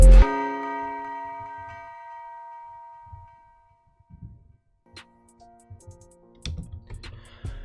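A church bell tolls once at the close of a hip-hop beat, its tone ringing out and slowly fading with reverse-style reverb, followed by sparse ticking percussion and soft clicks.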